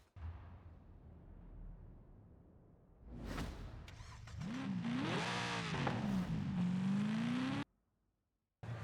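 A car in the racing video game Forza Horizon 5 accelerates with a rising engine whine that climbs and wavers over several seconds, then cuts off abruptly.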